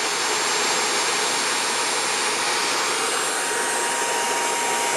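An electric motor drive turning a three-phase synchronous generator gives a steady, loud broadband whir that holds constant for several seconds, with no talking.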